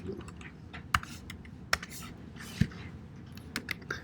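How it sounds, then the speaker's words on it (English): Someone types on a poor computer keyboard, giving a few scattered, sharp key clicks at irregular intervals against quiet room noise. "Sorry, terrible keyboard here."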